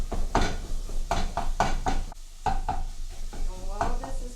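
Jimmy Dean sausage browns in a pan over medium-high heat, a soft sizzle under repeated scraping and stirring strokes of a utensil against the pan, with brief pauses between strokes.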